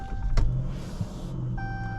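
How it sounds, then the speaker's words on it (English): An electric power seat motor in a 2018 Dodge Charger GT whirs briefly as the seat slides forward, a soft mid-length hum inside a quiet cabin, with a faint click just before and a steady tone in the background. "Seat automatically moves forward."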